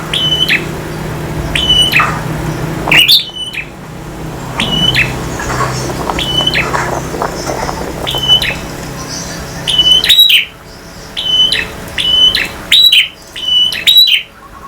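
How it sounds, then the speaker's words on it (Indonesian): Male prinia (prenjak) singing in loud, sharp bursts of repeated high chirps and squawky trills, close up, with pauses between phrases and faint background noise. "perenjak jantan"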